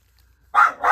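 A dog barks twice in quick succession, loud and close, the second bark following right after the first with nothing else heard.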